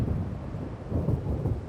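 Low rolling rumble of an approaching thunderstorm over Cauldron Lake in Alan Wake Remastered, with steady wind and rain noise and swelling thunder surges, continuous and fairly loud.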